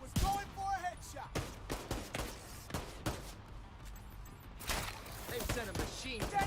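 Rapid gunfire in The Division 2 shooter game, bursts of sharp shots and thuds cracking out densely one after another, loud and close, with a voice talking in between.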